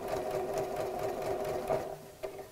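Sewing machine running steadily as it stitches a fabric dog doorstop, a close, continuous mechanical whir with brief slowdowns and a short pause near the end.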